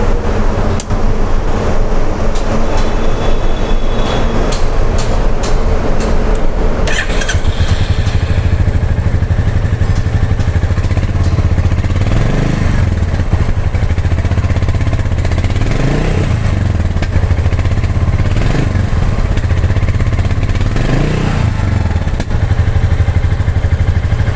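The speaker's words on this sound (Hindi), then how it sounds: "और जो एग्जॉस्ट नोट है वो मैं आपको लगे हाथ फटाफट सुना देता हूँ।" Royal Enfield Goan Classic 350 motorcycle idling with a steady, loud thumping exhaust note up close, a few throttle blips rising and falling over the continuous single-cylinder beat.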